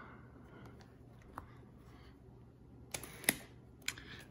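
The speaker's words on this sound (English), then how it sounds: "So now I'm going to take the same lens off." A Minolta 80-200mm f2.8 G lens is twisted off a Sony A-mount camera body, giving a few close, faint clicks and a sharp latch snap over a quiet room background.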